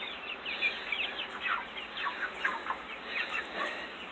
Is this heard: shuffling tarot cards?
no